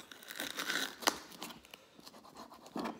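A knife cutting a chili in half on a board, heard as close, faint scraping and crisp slicing noises with one sharp snap in the middle and a few softer scratches after it.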